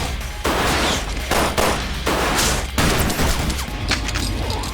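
Rapid gunfire from Resident Evil Re:Verse, loud close bursts of shots in quick succession that run almost continuously, with dense crackling impacts and heavy low booms layered throughout.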